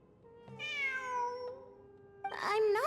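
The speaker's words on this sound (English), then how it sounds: "It really is a cat." A cat in the video game Genshin Impact meows twice, nearby and clear, with a long drawn-out mew followed by a shorter rising one after a brief pause.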